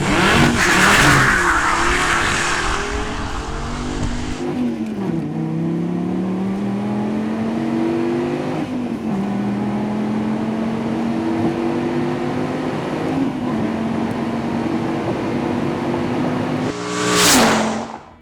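An SRT Viper GTS launches hard using launch control, its engine roaring loud and close as it climbs through the revs, drops briefly at each gear shift and climbs again, with a final sharp burst near the end.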